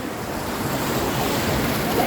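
Ocean waves surging and washing steadily at a swimming beach where a child stands up on the swell, a broad continuous wash of surf with wind buffeting the microphone, no voices.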